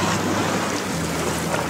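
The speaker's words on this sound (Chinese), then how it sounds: "我想听笨港的海浪声，" Ocean waves at the Bengang seashore form a steady, dense wash of surf and wind noise, continuous and fairly loud, with no voices.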